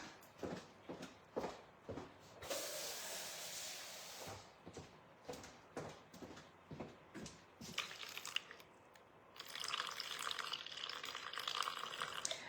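Water pours into a mixing bowl while making sourdough, a steady splashing stream in bursts, between scattered taps and clinks of the kitchen work, fairly close and moderately quiet.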